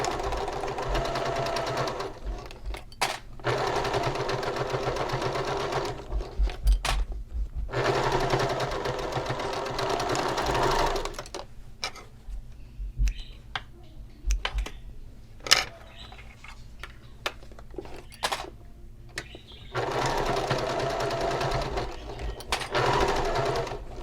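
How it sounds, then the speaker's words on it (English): A sewing machine stitches fabric for a clutch's card slot pockets in quick mechanical bursts, rattling runs separated by short pauses and a few clicks, close and moderately loud. "I will sew this with a 1/4 inch seam allowance."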